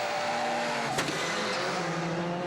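Rallycross cars at a 2012 European Championship round in Germany race past. Engines roar steadily, with a sharp brief crack partway through and tyre noise under the continuous, loud motor sound. No voices.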